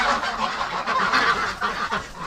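Wintering geese gather with ducks in extreme cold, honking repeatedly in a busy, overlapping chorus at close range.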